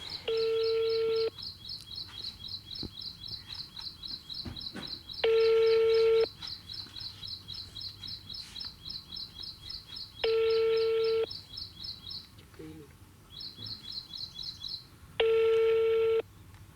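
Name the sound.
telephone call being placed, dialing and ringing tone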